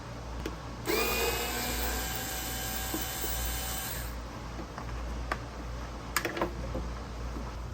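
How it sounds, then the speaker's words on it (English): A small electric screwdriver fitted with a T20 star bit backs a screw out of a plate on a 2016 Chevy Colorado, a loud whirring burst lasting a few seconds, followed by quieter handling clicks and taps. "We're gonna use a T20 star bit on my little electric screwdriver here. We're gonna back this screw out"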